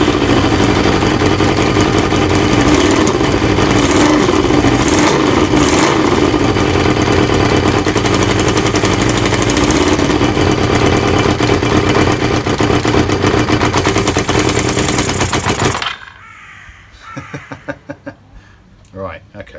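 A Kawasaki ZL600 Eliminator motorcycle engine with refurbished carburetors, running unrestricted, idles loudly and steadily with a rough, pulsing rumble for about fifteen seconds, then cuts out, leaving quieter sputters and talk.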